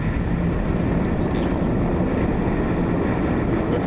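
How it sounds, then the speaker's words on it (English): SpaceX Falcon 9 rocket lifting off with a Dragon capsule: a dense, steady roar and low rumble heard from a distance, unbroken and constant throughout, with no voices. "Liftoff of Falcon 9."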